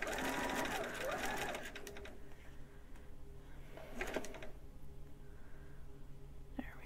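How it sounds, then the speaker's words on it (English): Sewing machine running a 5/8 seam on monk robe fabric, a rapid mechanical whirr at the start that stops, then brief bursts of handling and clicks, with a few quiet spoken words. "I'm going to sew to the end 5/8."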